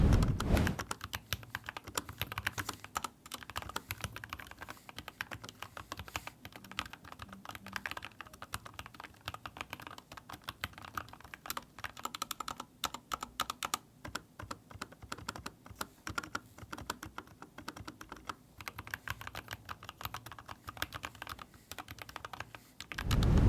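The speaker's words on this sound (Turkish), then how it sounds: "bu klavyede bir de gelen sarı switchleri sesinin merak edenler için güzel bir test olacaktır" Steady, fast typing on a Miiiw mechanical keyboard fitted with yellow switches, a dense run of crisp keystrokes close to the microphone for over twenty seconds with no talking.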